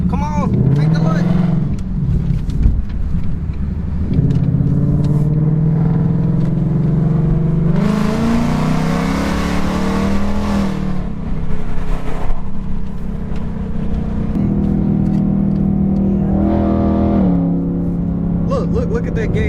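A modified Ford Mustang GT engine drives through traffic with a steady low rumble, swelling into a brief rev midway, while people talk loudly over it throughout.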